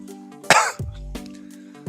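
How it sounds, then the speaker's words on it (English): A single sharp cough from a person, brief and close, followed by a quieter throat-clearing rasp over a faint hum. "have a little bit of a teensy cough here"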